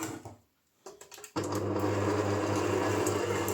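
An electric mixer whips 350 grams of soft butter for a cake cream, starting after a few quiet clicks and bumps and then roaring at a steady, loud, continuous whir close by.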